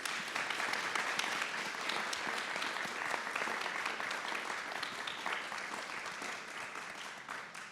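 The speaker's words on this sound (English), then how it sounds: "Let's all give them a round of applause." An audience applauds steadily at a roundtable discussion, a dense wash of clapping that holds for several seconds before tapering slightly, with no voices over it.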